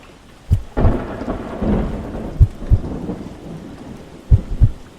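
Rain falls steadily while several loud, close thunder claps boom and rumble across the storm at irregular intervals.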